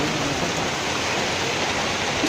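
Steady rain falling outdoors during an afternoon walk in a Sundanese village, a continuous broadband hiss of close, even downpour with no pauses and no voices.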